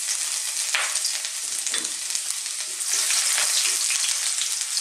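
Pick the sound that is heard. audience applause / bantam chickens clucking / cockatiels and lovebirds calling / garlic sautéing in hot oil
garlic sautéing in hot oil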